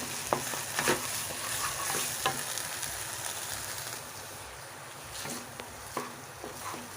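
Sour yogurt being stirred into a curry frying in a pan over a low gas flame, a steady sizzle with scraping spoon strokes and occasional clinks, close and continuous, with no talking.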